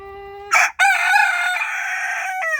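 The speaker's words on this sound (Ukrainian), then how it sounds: "Ще жоден півень на нашому господарстві не співає, а вже він ось такий артист." A single young Chinese Silkie rooster crows up close, a loud, slightly strained call that holds and then breaks off, its voice still thin and young.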